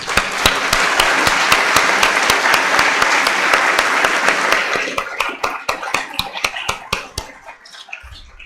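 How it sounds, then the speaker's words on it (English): Conference audience at an awards session breaks into steady dense applause, many hands clapping together for several seconds before thinning to scattered individual claps and fading out. "please join me in a round of applause"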